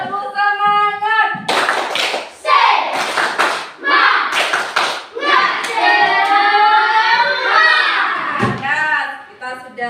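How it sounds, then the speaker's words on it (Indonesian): A classroom of children clapping hands together in a group, loud bursts of claps mixed with children's voices and chanting, close and lively throughout. "Tepuk tangan."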